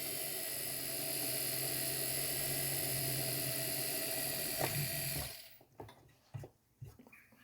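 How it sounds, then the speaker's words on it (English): A small drill bores through a metal ring shank at a jeweler's bench, a steady close whine with a grinding edge running continuously for about five seconds before cutting off, followed by a few scattered light clicks and handling taps. "I'm going to drill all the way through the ring shank"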